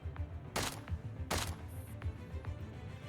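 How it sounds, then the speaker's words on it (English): Two gunshots in quick succession, each a sharp, loud broadband crack with a short decaying tail, separated by under a second, over a low rumbling background in a tense scene. "Two consecutive gunshots ring out."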